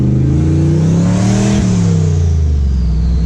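A turbocharged Chevrolet Suburban engine revs hard through the gears, its rising tone dropping sharply at a shift before climbing again, loud and close with no talk.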